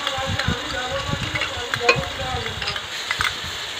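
Spice paste frying in a pan for Bengali prawn malai curry, a close hiss of oil with quick rhythmic scrapes and taps of a spatula stirring throughout.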